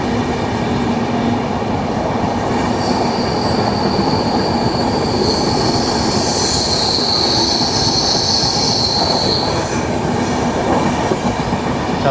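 Barak Brahmaputra Express train running from New Tinsukia toward Silchar, its wheels rolling loud and steady on the rails with squeals rising over the rumble throughout.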